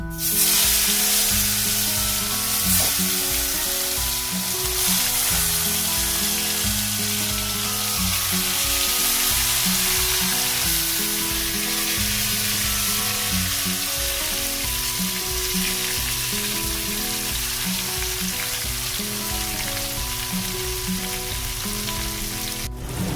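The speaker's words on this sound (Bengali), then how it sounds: "এবারে এই যে মাটনটা ভালো করে একটু কষিয়ে নেব" Mutton sautéing with whole spices and bay leaf in a pot for biryani, a loud continuous sizzle and crackle with rhythmic scraping and stirring knocks repeating through, no talk.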